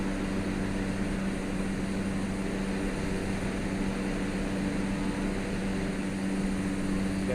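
Aircraft climbing in Microsoft Flight Simulator 2020, a steady, even engine drone with a low hum that holds unchanged throughout, no talking.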